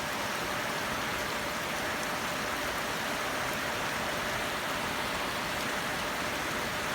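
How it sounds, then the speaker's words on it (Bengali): Heavy downpour in Dinajpur, Bangladesh, pouring onto waterlogged fields; a dense, steady hiss of rain that stays loud and unbroken throughout, with no voices. "কি মুষলধারে বৃষ্টি হচ্ছে।"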